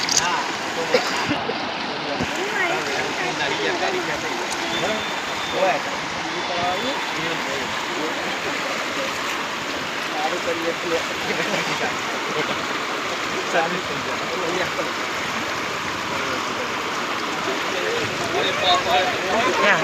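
Floodwater rushes through the river at Lalavada village, where a vehicle has been swept away: a steady, broad roar of flowing water that stays close and continuous throughout, with voices faintly mixed in at times.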